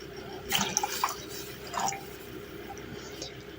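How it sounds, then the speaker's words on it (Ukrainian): Vinegar is poured into a pot of boiling water while making marinated eggplant, giving a few soft splashing, dripping liquid sounds over a low kitchen background. "Водичка закипіла, вливаю туди таку ж точно пропорцію оцту."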